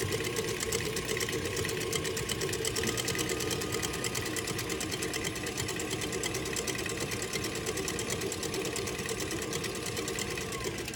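Stand mixer with a whisk attachment beating cookie dough, giving a steady, loud motor whir with a fast mechanical rattle that runs unbroken throughout, with no talk.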